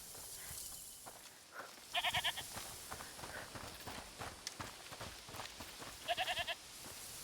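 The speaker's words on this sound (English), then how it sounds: "is that the goat he talked about?" A goat bleats twice in a video game, each a loud wavering cry, separated by several seconds of steady ambient background noise.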